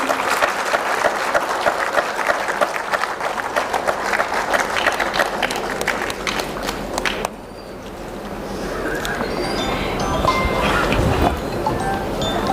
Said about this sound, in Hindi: आप सबकी तालियां बजती रहें।